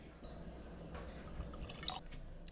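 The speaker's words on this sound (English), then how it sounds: "I want to make a pour of number one real quick." Bourbon whiskey, a Penelope Architect bottling, poured into a glass: a faint, quiet trickle and drip lasting a couple of seconds, with a slightly brighter splash near the end and no talk.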